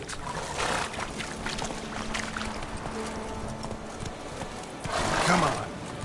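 Roach, the horse in The Witcher 3, gallops with steady clip-clop hoofbeats and lets out a loud whinny near the end, all under ongoing game audio.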